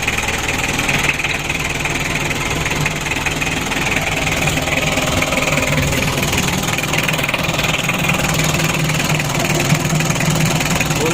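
A Mitsubishi L300 4D56 diesel engine, 2010, idles steadily on a freshly rebuilt block, a continuous close mechanical clatter and hum with faint knocking texture, no voices over it.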